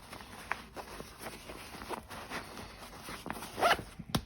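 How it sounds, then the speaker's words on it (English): A soft zipper on a tactical sling bag runs in short pulls, with a louder drag near the end, close by and otherwise quiet. "So when you open it up, again, it's nice, smooth zipper."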